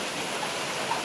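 Steady rain pours down in a dense, even hiss that holds at a constant level throughout, with no voices.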